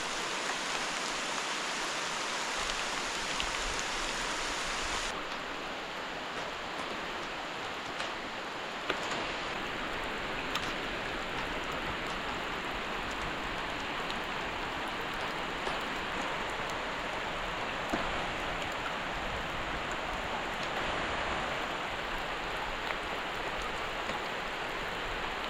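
Early-morning rain falls steadily in cool weather under thick tree cover, a continuous soft hiss of drops with faint patters on surfaces, even and moderately quiet throughout.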